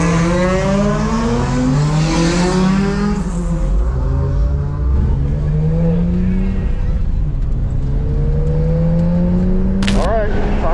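A Nissan R34 GT-R on a race track, engine loud and close throughout with rising and falling revs through gear changes, tire noise and a brief sharp burst near the end.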